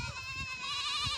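A goat bleats once in a short, close, clear call with a wavering, nasal tone, heard on a village farm with no talking.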